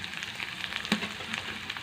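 Mashed brinjal pulp, added to a pan of curry leaves and tempering for Telugu vankaya pachi pulusu, sizzles and crackles steadily at close range, with one sharp clatter partway through.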